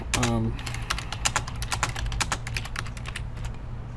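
Rapid keystrokes on a computer keyboard while a note is typed into 3D design software, close and steady clicks running throughout over a low background hum, with a brief tonal blip near the start.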